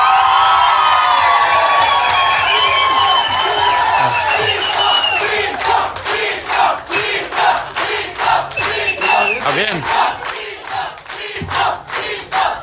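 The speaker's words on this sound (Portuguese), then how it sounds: "Agora eu quero uma saudação calorosa, maior do que vocês deram para a Elaine" Large audience at a public hearing in Brazil's legislature on community health agents' retirement, cheering, whooping and shouting loudly and continuously in warm welcome for a deputy, with rhythmic chant-like bursts building in the second half.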